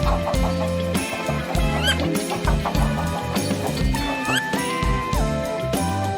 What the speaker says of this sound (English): It's chicken. Say with me, chicken.